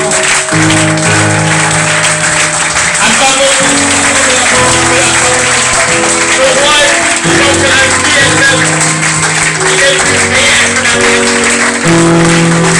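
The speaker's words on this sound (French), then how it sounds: "Est-ce qu'on peut acclamer encore?" Church congregation clapping and cheering in praise during a lively worship service, steady loud applause mixed with voices over sustained music throughout.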